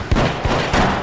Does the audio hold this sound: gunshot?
yes